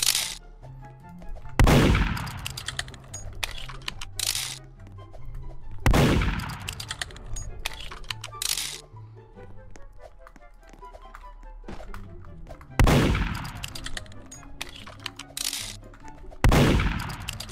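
Gunfire in the Roblox game Murder Mystery 2 during a one-on-one match, loud shots that come in separate bursts spaced several seconds apart over faint background game sounds.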